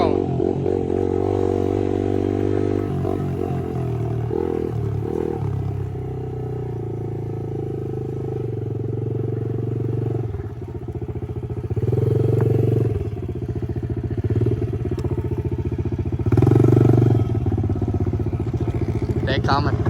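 Pit bikes racing around a track at a championship event, small engines buzzing and revving continuously as riders pass and circle, with voices talking over the engine noise.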